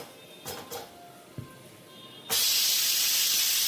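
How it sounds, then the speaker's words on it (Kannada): During the cooking of tomato rice, the pressure cooker goes quiet apart from a few soft clicks, then its whistle bursts into a loud, sustained hiss of escaping steam. "ನೋಡಿ, ಇವಾಗ 2 ವಿಸಿಲ್ ಆಯಿತು ನಂದೀಗ."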